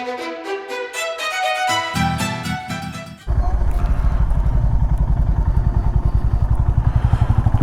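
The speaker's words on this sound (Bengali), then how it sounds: "আজকে যাচ্ছি দুটো বাইক নিয়ে," A Honda Highness 350 motorcycle on a Sunday ride. Tonal music plays first, then a loud, close single-cylinder engine chugs in a steady, rapid pulse.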